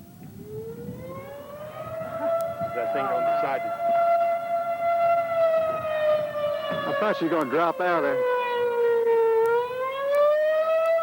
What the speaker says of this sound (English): Well, our sirens work anyway.